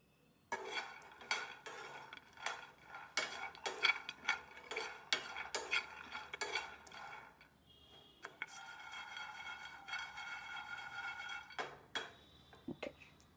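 Peanuts frying in a pan over a low flame, stirred with a utensil that scrapes and clinks in repeated strokes for the first half, then a steadier soft sizzle with a few more scrapes near the end, close and moderately loud.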